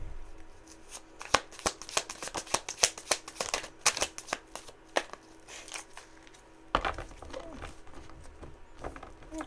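Tarot cards are shuffled in rapid bursts of crisp riffling and slapping, sharp irregular clicks, close and alone, with a brief pause before a final flurry.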